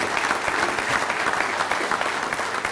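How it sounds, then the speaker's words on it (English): A steady round of applause from a crowd at a touchdown club luncheon, dense clapping filling the whole stretch at an even level. "let's give the round of applause to all of our sponsors here today"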